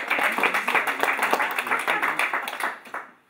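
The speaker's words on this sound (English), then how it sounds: "Round of applause for Murray." A small group claps for a family friend, Grandpa Murray, in a close, lively round of applause with dense overlapping hand claps that fade out at the end.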